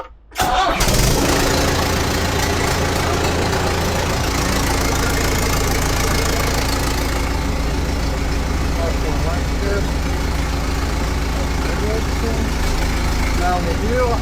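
A backhoe loader's diesel engine cranks and catches with a brief burst at the start, then settles into a steady, loud, rumbling idle that continues throughout with slight knocking, while a voice speaks faintly over it.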